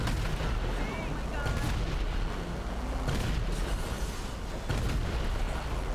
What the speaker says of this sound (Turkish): Aa, tank geliyor bir tane daha.